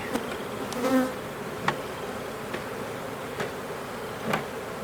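Honey bees from a newly installed package swarm around a fresh hive with drawn comb in April, a dense steady buzz close by, broken by a few faint knocks of equipment.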